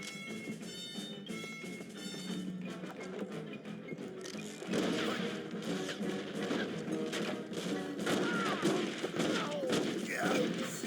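Gunfire in the Red Dead Revolver video game, with bursts of shots and crashing impacts building over background game music, growing denser and louder in the second half.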